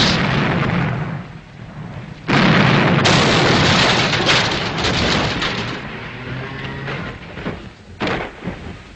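Cannons fire in a battle, heavy booming blasts and rumbling barrages roll on continuously, loud and dense, with irregular bursts layered over one another.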